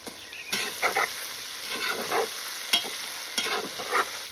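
Meat with onion, turmeric, ground pepper and salt sizzles and spits in a hot pan, with intermittent scraping stirs and crackling bursts, fairly quiet and close.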